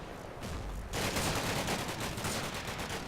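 Sustained automatic gunfire from the video game Combat Mission: Black Sea breaks out after a short quiet lull, a dense rapid rattle of shots that stays loud and steady to the end.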